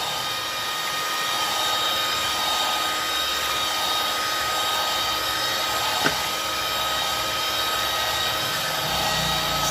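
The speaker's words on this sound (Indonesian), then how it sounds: "Kita percepat mixernya supaya lebih kencang dan lebih cepat teraduknya." An electric hand mixer runs steadily at high speed, whipping batter for steamed brownies with a constant close whirring motor drone and one brief click midway, no talking.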